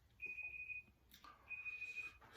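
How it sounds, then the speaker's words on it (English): A timer gives two long, steady electronic beeps, each about half a second, separated by roughly a second of quiet, clear and close over a low background hum. "You hear the timer?"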